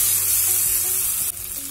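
Hot oil with curry leaves sizzles and crackles steadily in a pan while tempering, a bright continuous hiss with a brief shift near the end.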